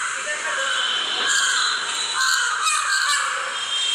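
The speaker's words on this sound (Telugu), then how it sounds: "కింద ఉన్నప్పుడు అసలు ఇక్కడ కాకులు ఉన్నాయా అనేది కూడా తెలిసేలే" Several crows caw repeatedly in the early morning, in Bangalore, their harsh calls overlapping at moderate distance against a quiet background.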